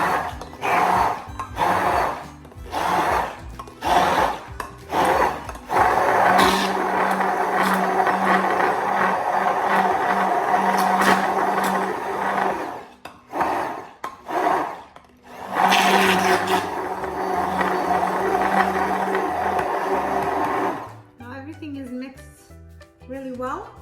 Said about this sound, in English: And get our blender and do the same thing we did with the carb.